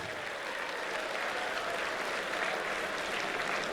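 Audience applause at a school annual day event in Coimbatore, a steady dense wash of clapping from a large crowd, sustained and even throughout with no voices over it.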